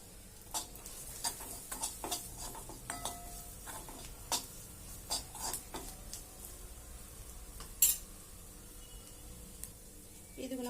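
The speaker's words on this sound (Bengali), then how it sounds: "একটু লঙ্কার পাউডার আর গরম মশলা দিয়ে ভালো করে নেড়ে দেবো" Saag dal base with chili powder and garam masala stirred in a pan, faint sizzling under sparse spoon and pan clinks and scrapes at an irregular pace, close but quiet.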